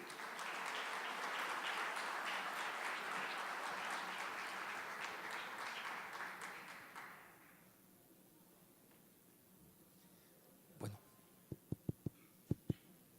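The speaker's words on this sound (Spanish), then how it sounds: "Por favor, recibamos con un caluroso aplauso al ingeniero Marco Tulio Duarte." A conference audience at a national coffee congress applauds to welcome engineer Marco Tulio Duarte, a dense, loud roar of clapping that holds for about seven seconds before fading out, followed by a few scattered near clicks and taps.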